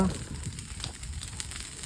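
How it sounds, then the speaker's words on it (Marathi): A forest fire burns on a tree trunk in the Palghar hills, giving off soft, quiet crackling and sizzling pops over a faint background hiss. "त्या झाडाच्या खोडावर आग पेटतंय आणि तो पाणीसारखा उडतोय"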